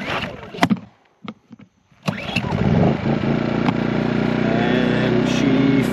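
Champion 2500 dual fuel generator on propane: a few short cranking bursts and clicks, then the engine catches and settles into a steady, close running drone.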